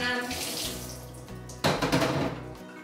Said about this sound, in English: I soaked the cashews, raw cashews, in water. It's been about an hour and a half, and I'm gonna drain them.